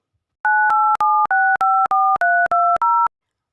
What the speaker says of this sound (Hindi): मोबाइल पर नंबर डायल करता रहा।